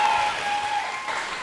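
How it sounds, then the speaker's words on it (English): Applause from a live audience after a singing performance on a televised vocal competition show, a short steady wash of clapping, fairly loud, with a sustained musical tone ringing underneath. "round of applause for performance tonight"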